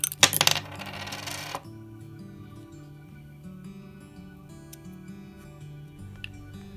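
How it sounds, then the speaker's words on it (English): A small coin battery pushed out of a Toyota key fob with a small screwdriver, one sharp metallic clatter and a brief rattle as it drops, then near-silence with faint background tone. "Using the small screwdriver, push out the battery."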